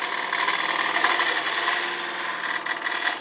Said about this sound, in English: Take this detail gouge and just come in here